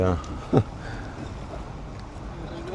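The diesel engine of a taxi boat between Phi Phi and Ao Nang drones steadily throughout, mixed with water and wind, as a voice speaks briefly.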